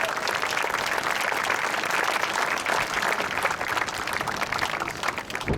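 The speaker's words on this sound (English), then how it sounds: "So give them a round of applause." A crowd applauds steadily at an outdoor Veterans Day ceremony, a dense patter of clapping hands that holds at full strength for several seconds.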